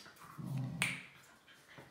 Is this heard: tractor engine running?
no